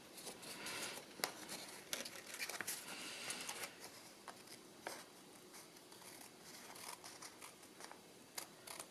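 Scissors snip surplus paper off the edge of a homemade expanding envelope, a run of short crisp cuts and rustles close by with no talking.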